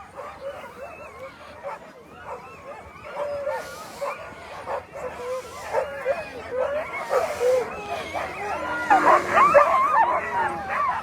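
Sled dog teams at the start of the 2022 Willow 300 mid-distance race in Alaska on a cold, below-zero morning, barking, yipping and howling in a dense, continuous chorus that builds louder toward the end, with a voice talking over it.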